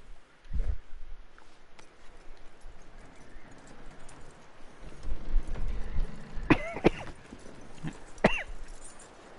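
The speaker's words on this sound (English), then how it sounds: "Aproxime-se do cavalo." Horse hooves clip-clop near a horse in Red Dead Redemption II, with a low snort and breathy horse sounds, followed by sharp clicking noises near the end, mostly without talk.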